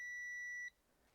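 A multimeter set to continuity gives a single clean, high-pitched electronic beep lasting about half a second, close and clear, before cutting off into quiet room tone.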